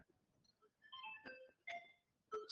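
A mobile phone ringtone plays as a faint, chirpy melodic sequence of short electronic notes in quick succession, with no talking.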